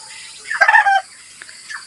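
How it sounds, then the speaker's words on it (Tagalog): A chicken on a farm gives a brief burst of loud clucking calls up close, followed by a couple of softer chirps. "Puro huni ng manok ko maririnig dyan."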